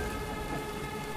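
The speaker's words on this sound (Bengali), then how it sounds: "সেদিন সন্ধ্যে থেকে একটানা ঝিরঝিরে বৃষ্টি হচ্ছে," A steady light drizzle of rain in the evening, a soft, even hiss of falling drops that holds constant without breaks, quiet and distant.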